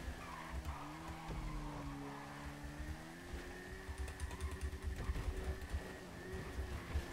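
An Akuma motorcycle racing in Grand Theft Auto V Online, a rising engine whine shifting pitch over tire screeches and skidding, with a busy rhythmic rumble of game racing sound building toward the end.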